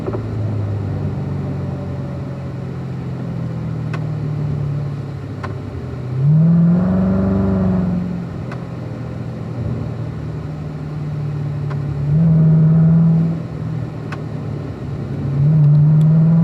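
Chevrolet Corvette engine on lead/follow laps at the Spring Mountain race track, a steady droning hum with three louder surges as the throttle opens, close and continuous throughout.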